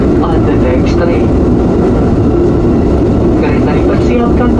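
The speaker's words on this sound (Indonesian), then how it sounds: "Kereta dipersiapkan masuk di jalur 1 stasiun Prambanan." Loud, steady low rumble of a KRL JR 205 commuter electric train pulling into Prambanan station, heard from inside the cab as a continuous heavy drone without clear breaks.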